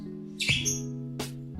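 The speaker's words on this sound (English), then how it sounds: "Sorry if you can hear the birds in the background." Indoor birds give a couple of sharp squawky chirps in the background of a quiet room, two brief bursts over a steady low hum.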